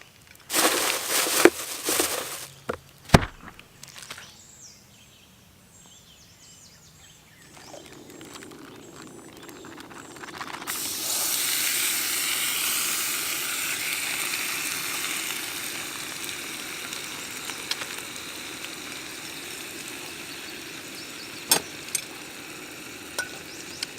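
Peppers and pork chops cook on a camp stove beside a river, first with clattering and scraping handling, then a steady sizzle that rises midway and holds, broken by occasional sharp clinks.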